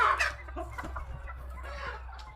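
Hens in a home chicken coop clucking nearby, a few short, scattered clucks and squawks over a low steady hum, quiet overall.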